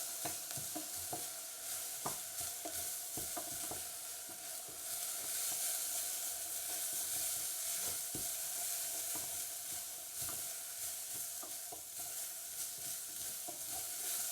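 Steady sizzling of a bay leaf frying in a hot pan, with a few scattered crackles and pops throughout, no talking.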